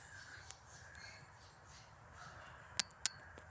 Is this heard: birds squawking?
yes